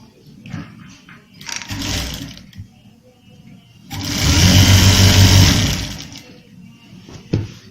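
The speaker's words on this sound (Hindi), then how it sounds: "अब अपन दूसरी तरफ से आधे की सिलाई करेंगे" A domestic sewing machine stitches the side panel of a kali-style kurta in two bursts, a shorter one and then a louder sustained run, with a voice speaking in between.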